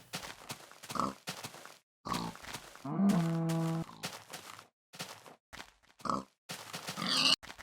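Pigs in Minecraft grunt in a series of short, separate snorts spread over several seconds, close and moderately loud, with a sustained tonal sound in the middle.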